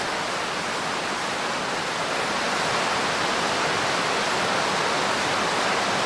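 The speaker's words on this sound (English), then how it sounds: "That waterfall looks amazing." A waterfall roars in the VR fishing game Catch & Release, a loud, steady broadband rush of falling water that fills the scene without pause.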